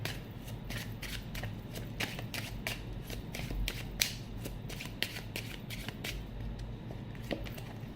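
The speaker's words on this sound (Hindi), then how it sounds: "और कार्ड्स देखते हैं यहाँ पर।" Tarot cards being shuffled during a reading, a steady run of crisp riffling flicks and soft slaps repeating through the whole stretch, close and fairly quiet, with no one speaking.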